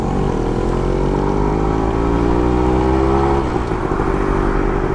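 Suzuki Max 100R motorcycle engine heard while riding: a steady, close, loud engine drone with a pitch that climbs slightly and then settles, under constant wind rush and no voices.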